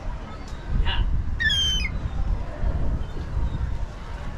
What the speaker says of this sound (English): Baby seagull having ice